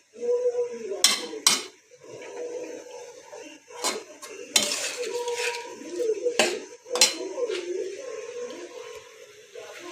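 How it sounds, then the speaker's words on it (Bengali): Potatoes sautéed in a pan for a fish curry, with sharp metal utensil clanks against the pan at irregular intervals over a soft frying hiss, close by. "আমি আলুটাকে একটু কষিয়ে নিচ্ছি, তারপরে মাছ দেব"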